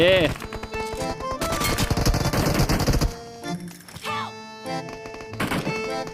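Rapid gunfire in PUBG Mobile rattles in a dense burst of automatic shots, followed by scattered single cracks and short bursts, loud and close, with people talking over parts of it.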